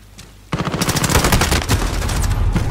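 Rapid automatic gunfire in Call of Duty Modern Warfare on PS4, a near, dense stream of shots starting abruptly after a brief quiet and continuing steadily to the end.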